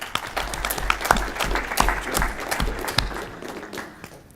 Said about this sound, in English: I want to ask for another round of applause for all the student papers